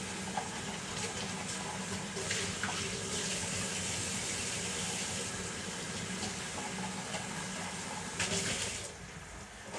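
Food being rinsed under a running kitchen tap while cooking glazed pork belly, with a steady broadband splash of water that holds nearly constant for the whole stretch, then eases off right at the end, with no talking.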